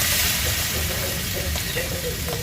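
Steady hissing sizzle of food frying in oil in a pan on a home stove, a dense continuous crackle filling the whole stretch, close and loud.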